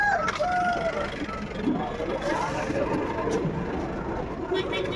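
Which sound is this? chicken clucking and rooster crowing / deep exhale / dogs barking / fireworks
chicken clucking and rooster crowing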